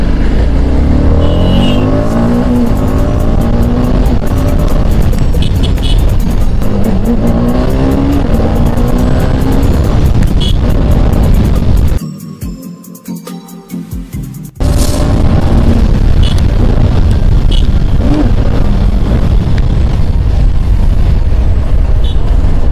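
A TVS Apache RR 310 motorcycle races along a road, its engine roaring loudly and steadily with wind rush, dipping briefly to a quieter lull before the loud riding noise returns.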